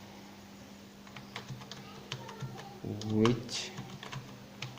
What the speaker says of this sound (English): Now type your question,